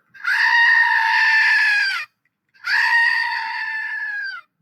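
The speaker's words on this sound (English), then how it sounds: "Here's my screaming goat." A screaming goat toy lets out two long, loud, shrill screams of about two seconds each, separated by a short silence.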